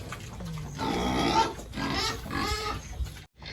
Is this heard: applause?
no